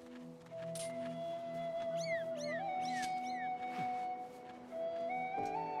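Cartoonish cat meows from the Skyward Sword video game, a few short rising and falling calls over steady game music.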